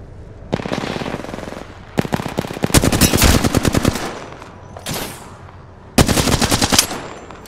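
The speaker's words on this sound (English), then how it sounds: "Getting shot at. Shots fired." Automatic weapon fire in the video game Apex Legends comes in several loud, rapid bursts of close gunshots separated by short pauses.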